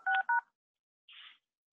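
Telephone keypad tones entered while dialing a conference call access code on an iPhone: two quick faint beeps, a pause, then a brief softer tone, heard alone in a quiet room.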